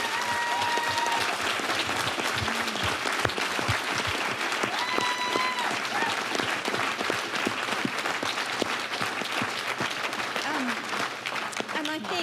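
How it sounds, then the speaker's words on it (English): An audience at a sustainable gardening talk gives a sustained round of applause, dense clapping continuing throughout, with voices talking over it. "maybe a little round of applause for these clever people up this end"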